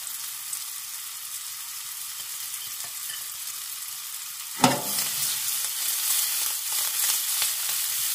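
Mushrooms fry in a pan, a quiet sizzle that jumps to a loud burst of crackling hiss after a sudden clatter, then stays busy and close.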